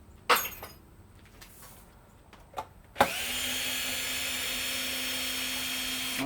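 A power drill fitted with a small 1/4-inch bit backs screws out of a vacuum motor being scrapped: a few sharp clicks and knocks, then a close, steady whirring whine that holds without a break.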